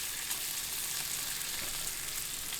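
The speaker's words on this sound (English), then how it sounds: "Going to add the onions to the griddle" Onions sizzling in Kerrygold salted butter on a Weber Q griddle, a continuous bright, even crackling hiss, close and steady throughout with no speech.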